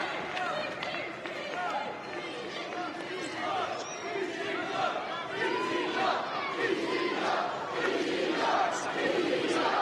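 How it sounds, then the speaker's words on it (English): A live wrestling crowd at a Liverpool event roars and chants in a dense, swelling wall of noise that builds toward the end, with a commentator's voice faintly mixed in. "the crowd here is right behind BT Gunn"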